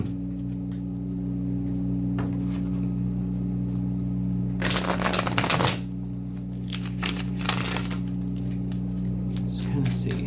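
A deck of tarot cards being shuffled by hand at close range, with two bursts of riffling and flapping cards over a steady low hum indoors.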